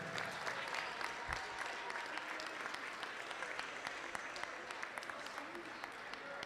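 Crowd in a school gym applauding the senior players after a girls' basketball game between Homestead and North Side in Fort Wayne, Indiana, a sustained roomy patter of clapping with a few sharp claps cutting through and murmured voices mixed in.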